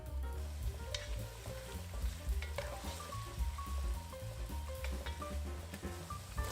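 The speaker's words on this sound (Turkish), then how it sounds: "Soğanlar hafif pembeleşene kadar kavuruyorum." Onions sauté in olive oil for ajvar pepper sauce, a steady close sizzle and crackle of frying with occasional stirring scrapes, no voices.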